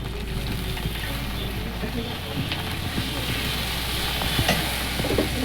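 Spice masala with chillies and a splash of water sizzles in a pan while cooking sauced pointed gourd, a steady frying hiss with small stirring clicks and a faint voice in the background.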